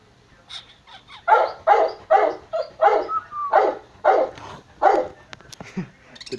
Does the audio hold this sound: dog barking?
yes